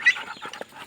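Chicken clucking at close range, a few short soft clucks in quick succession with quiet pauses between them.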